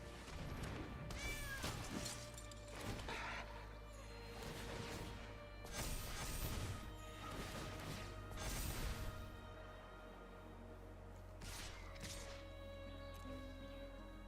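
Cat meow effects from the Magic: The Gathering Arena card game sound over layered game music and whooshes, several short meows spread through the stretch.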